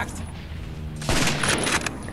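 A burst of gunfire rings out in the World War Heroes video game, a sharp loud volley after a quieter stretch of low rumble.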